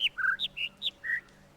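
Birds in the puzzle game The Witness singing over one another: about six crisp whistled chirps alternating between high and lower pitches in quick succession, close and clear, with no talk.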